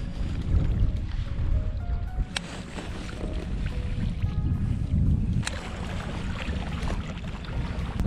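Strong wind buffets an exposed shoreline on Awaji Island during a rockfish fishing session, roaring steadily and close throughout with heavy low rumble, a couple of sharp knocks cutting through.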